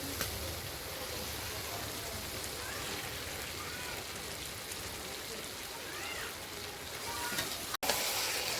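Chicken pieces with tomato and spices are being fried down in a pan for a Bengali chicken curry, making a dense, even, rain-like sizzle that holds steady close by, with a short clatter near the end and no speech.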